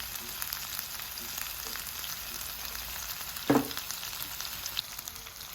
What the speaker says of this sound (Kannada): ಟರ್ನ್ ಮಾಡಿ ಇನ್ನೊಂದು ಸೈಡ್ ಫ್ರೈ ಮಾಡ್ತಾ ಇದ್ದೇನೆ